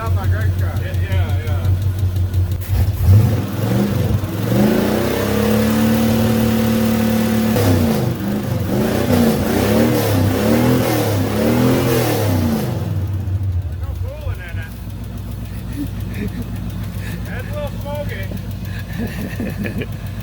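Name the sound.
street stock race car engine revving, possible exhaust leak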